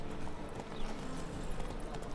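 Horse hooves clip-clopping steadily in The Witcher 3 video game, a continuous trotting rhythm of close, moderately loud hoofbeats over a busy game soundscape.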